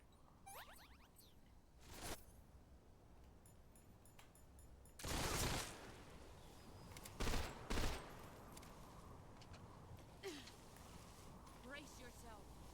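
Bursts of gunfire from the video game Metal Gear Solid Delta, a few loud volleys around the middle and scattered quieter shots among game sound effects, with someone talking now and then.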